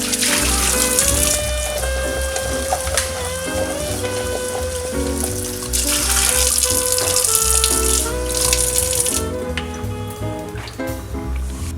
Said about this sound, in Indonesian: Kita harus bersihkan terlebih dahulu sampai betul-betul bersih, tetapi tidak mengupas kulitnya. Jadi kita akan cuci terlebih dahulu.